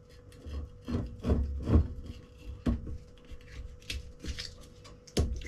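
A whisky bottle stopper is worked loose with a series of close, faint rubbing creaks and squeaky twists, coming in short irregular bursts.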